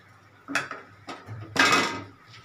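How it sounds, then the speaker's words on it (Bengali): Lentil fritter curry tipped from a pot onto a plate: a couple of close clanks of metal cookware, then a short louder rush of pouring with rattling contact. "এবার আমি এটাকে থালাতে ঢেলে দেবো"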